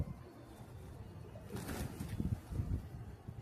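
Pigeons coo softly in low, murmuring bursts against a quiet outdoor background, with faint rustling and no speech.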